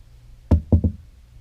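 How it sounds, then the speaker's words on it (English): Three sharp knocks on a door, one then a quick pair, close and clear against a quiet background. "there was a knock at the door"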